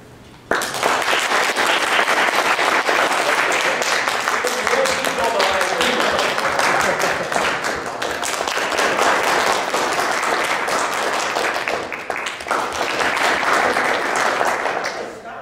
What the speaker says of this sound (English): you get to clap with who you think did the best acting job